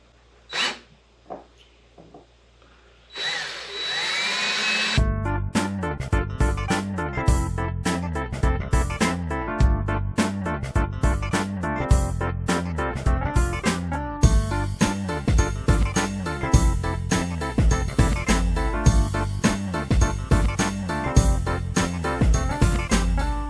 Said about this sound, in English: So I'm going to go ahead and get these drilled out.